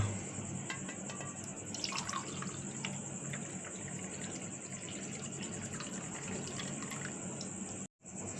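A prepared herbal remedy, boiled down to about one cup, is poured out of its pot as a soft continuous liquid trickle and gush, with a brief gap near the end.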